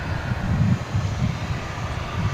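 A DHL ABX cargo plane taxis at DFW International Airport, a steady low engine rumble with wind buffeting, moderately near and continuous throughout.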